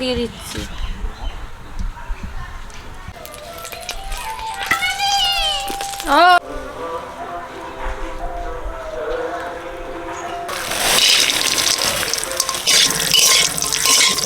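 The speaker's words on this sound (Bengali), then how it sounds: "আলুটা ভালো করে ধুয়ে নিচ্ছি" Tap water runs loudly into a kitchen sink as potatoes are washed, a steady rushing splash near the end, preceded by talking and some scattered whistling sounds.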